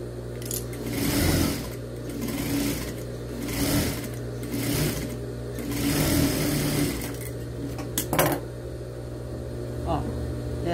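Sewing machine stitching fabric in a sewing workshop, running in several short bursts of rapid mechanical whirring with brief pauses between them, close and moderately loud, with someone talking over parts of it.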